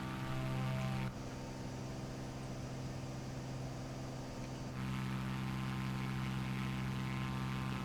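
A Cessna C400 in the MSFS 2024 flight simulator drones through takeoff with a steady propeller-engine hum rich in low tones, the sound shifting as the view changes, with no talking.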